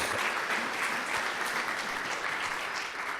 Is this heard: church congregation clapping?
yes